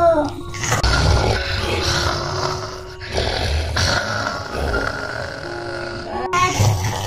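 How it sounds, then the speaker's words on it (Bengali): Loud, rough snoring rumbles in slow repeated cycles, each breath a growly drawn-out rasp, close by. "ওই দেখ, নাক ডাকার আওয়াজ হচ্ছে মনে হচ্ছে তো"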